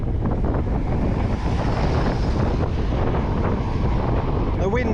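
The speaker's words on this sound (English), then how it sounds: "The wind has eased off a little bit at the moment, probably only about 20 miles an hour, but I'm expecting a gust of wind any minute." Strong wind roars across the microphone of a rider on a 250-watt eBike cruising at about 25 km/h, a constant loud buffeting rumble that fills the whole stretch.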